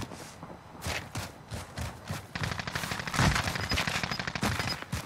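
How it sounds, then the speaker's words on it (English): Automatic gunfire from the video game Call of Duty Warzone crackles in rapid bursts, some quick rattling volleys and sharper single shots, growing denser and louder partway through. "They're shooting at me!"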